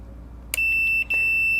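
A kitchen oven gives a clear electronic beep as its broil element clicks on during a test of the heating elements, a sharp onset followed by steady tones with a brief gap, alone without talk.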